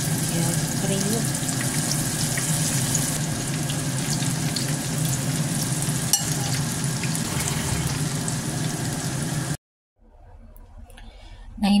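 Corn and salmon fritters (bakwan) fry in hot oil with a steady, loud, dense sizzle for most of the stretch. A voice speaks over the sizzling. It cuts out abruptly near the end, then faint kitchen clatter follows.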